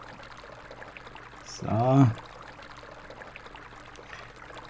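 Water pours onto plants in the video game Weed Farmer Simulator, a single short splashing stream lasting about half a second, with a brief spoken word nearby.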